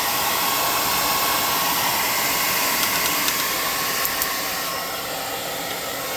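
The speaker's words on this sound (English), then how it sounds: "Using a hot air gun like I'm doing is just so it's not sticky and wet on the surface" A hot air gun blows steadily over freshly painted surfaces of a tabletop-game miniature monster, a loud, even rushing roar that holds for several seconds and eases slightly near the end.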